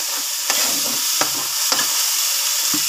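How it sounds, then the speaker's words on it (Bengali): Spice masala fries loudly in a pan with onions while a spoon stirs it, with a constant hiss and sizzle punctuated by several evenly spaced scraping strokes. "দিয়ে এটা একটু নাড়বো।"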